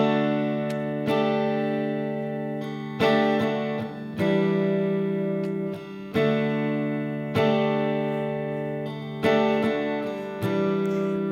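A guitar strums chords in a repeating rhythm, with bright accented strokes coming about every one and a half seconds and ringing out between them, played alone and up close.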